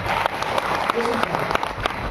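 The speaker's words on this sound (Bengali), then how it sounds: "জোরদার তালি আর একবার হয়ে যাবে" Audience applause in a crowded hall during a cash-back shopping promotion event, steady clapping filling the whole clip with dense, even texture and a few sharper claps.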